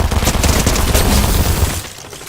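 Twin SMGs firing in Fortnite: a loud, dense rapid burst of automatic gunfire lasting about two seconds before tapering off, with no talk.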